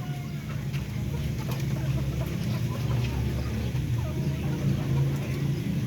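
Chickens cluck and murmur continuously nearby, with occasional sharper calls over a steady low background hum.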